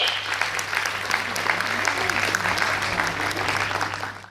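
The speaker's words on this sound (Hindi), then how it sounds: "अरे तो तालियां हो जाए।" Audience at a pre-school annual function applauding after a dance performance, sustained crowd clapping with a faint constant hum beneath and scattered voices, easing off at the very end.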